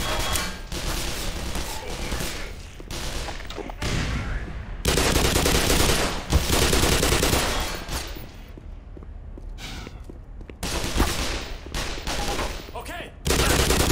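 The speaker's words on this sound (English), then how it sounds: "That's why they're shooting." Soldiers open fire in Black Mesa: repeated loud bursts of automatic gunfire and shots, up close and choppy, with short quieter gaps between volleys over about fourteen seconds.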